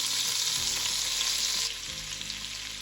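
Onion pearls and garlic fry in butter in a soup pot, a dense close hiss of sizzling that is loud at first and then drops a little in level.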